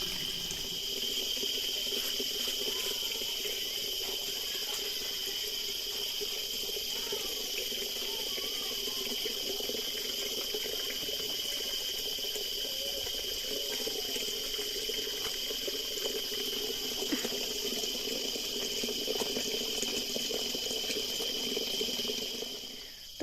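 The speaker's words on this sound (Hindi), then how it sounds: "नीचे हमारी बाल्टी भर रही है" Water from a spring spout pours steadily into a bucket, a constant close splashing rush that continues without a break, with no voices.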